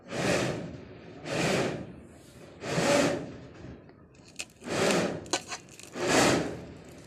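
Grated mango is mashed by hand with salt and chili in five separate squelching, scraping bouts, each about a second long, with quiet pauses between them and a few small clicks.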